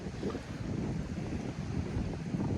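A strong squall blows steadily across the Dnipro river during a fishing outing, a dense low roar of wind buffeting the microphone with no voices present.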